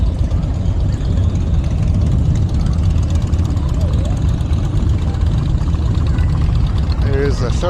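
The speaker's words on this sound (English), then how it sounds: "There's a shuttle bus." A shuttle bus engine idles nearby at a Port Dover, Ontario biker rally, a steady loud low rumble throughout, with people talking over it.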